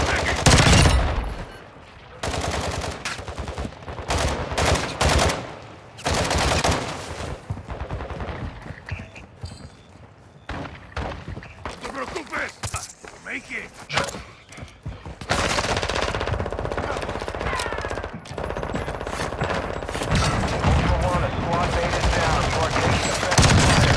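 Heavy automatic gunfire in the video game Call of Duty DMZ, loud, dense bursts of shots and sustained rapid fire with short gaps, with voices talking over parts of it.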